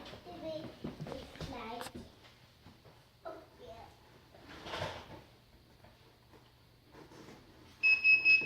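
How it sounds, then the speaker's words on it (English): A heat press timer beeps when its time runs out, a short burst of loud, steady electronic beeps at the end after a stretch of quiet speech and light handling noises in a craft workspace. "that's the timer there, so our time is up"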